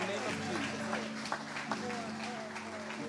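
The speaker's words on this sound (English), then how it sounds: "Give the Lord a mighty hand clap." A congregation claps at a faith-healing revival service, a continuous rattle of hands mixed with organ-like music and a preacher's voice talking over it.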